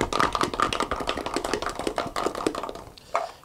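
Garlic cloves rattle inside a lidded container, shaken by hand in quick, continuous bursts of knocking and clattering for about three seconds, fairly close and steady with a brief pause near the end.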